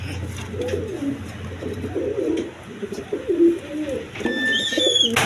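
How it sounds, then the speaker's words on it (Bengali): Pigeons at a pigeon seller's stall, including Bantiness and classic-coloured birds, coo close by in repeated low, throaty rolling calls over steady background noise, with a few higher chirps at the end. "তাছাড়া দেখেন বন্টিনেস কবুতর, দেখেন ক্লাসিক কালার, একদম অল্প দামে নিতে পারবেন।"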